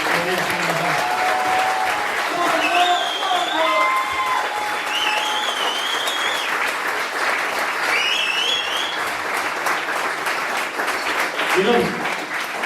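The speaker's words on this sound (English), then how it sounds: "I think he should have a massive round of applause" A large audience at an end-of-season awards night gives a sustained round of applause that fills the whole stretch evenly, with some cheering and voices mixed into the clapping.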